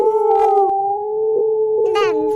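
A voice imitates a long, wavering dog howl, held steadily with rising and falling pitch, fairly loud and close.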